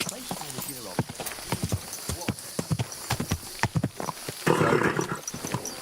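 Steady clip-clopping horse hooves in the video game Kingdom Come: Deliverance 2 pace along at a quick gait while a person talks over them; a brief rougher burst comes near the end.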